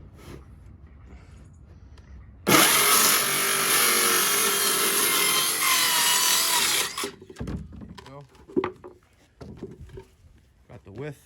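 A Milwaukee M18 6.5-inch cordless circular saw rips through plywood with a sudden loud, high blade roar that lasts about four and a half seconds, then cuts off, followed by clattering handling noises nearby.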